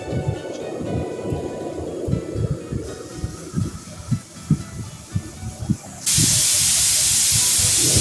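A loud, steady hiss of a pressure cooker whistle suddenly bursts in near the end, following a stretch of rhythmic clattering and rumbling.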